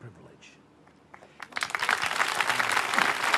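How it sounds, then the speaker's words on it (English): An audience applauds at a festival Q&A in Arnhem Land. The clapping swells suddenly from a quiet murmur into dense, sustained applause that fills the room, with a voice heard faintly under it. "hold your applause"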